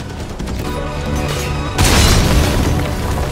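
Gunfire in Metal Gear Solid V: The Phantom Pain, with a steady rumble of dense shots and booms that swells into a louder, heavier burst partway through, with no talk over it.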